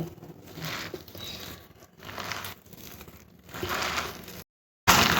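Hands mix spinach, onion, prawns and spices into gram flour and rice flour batter for pakoras, giving close, wet crinkling and squishing pulses in rhythmic strokes, with a short silent break near the end.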